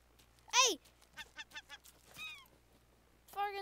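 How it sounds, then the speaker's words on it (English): Seagull cries in the video game Raft, a series of sharp, squawking calls rising and falling, some loud and close, with a brief pause between bursts. "Fucking seagull!"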